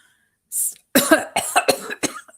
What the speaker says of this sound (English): This also will make you cough.